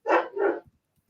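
A dog barks twice in quick succession, close and fairly loud, with no talk over it.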